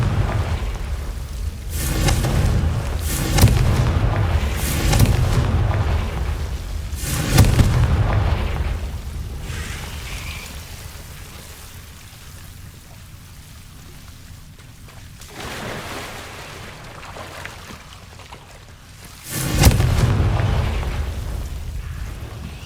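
Fiery spell explosions in the video game Hogwarts Legacy, several loud booming blasts with long rumbling decays spaced across the span, one heavy burst near the end, with no speech.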